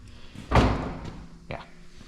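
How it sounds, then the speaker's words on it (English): A 1966 Mustang car door is pushed and latched shut during metalwork, giving a loud solid thud followed by a second, lighter clunk about a second later, in a quiet workshop. "I just latched the door in place to fit"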